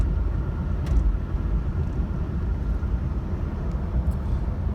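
Jeep Cherokee Sport XJ with only 34K miles driving on the road, a steady low interior engine and road rumble throughout with faint high ticks, no talk.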